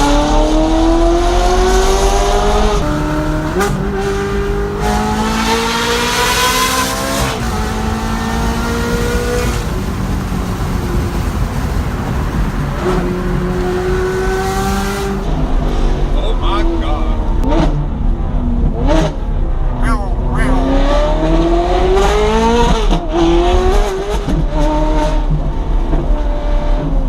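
A loud, raspy straight-piped Ferrari 430 engine revs up and down repeatedly, roaring aggressively with sharp climbs in pitch and quick drops, close and unmuffled.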